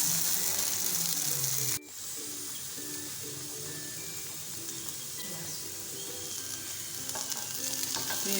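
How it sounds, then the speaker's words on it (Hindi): Okra for bhindi gosht fries in a pan, giving a continuous close sizzle with a brief break near the start, followed by steady bubbling hiss and occasional stirring. "और भिंडियों को हम अच्छे से फ्राई कर लेंगे, ताकि इसमें अच्छा सा कलर आ जाए।"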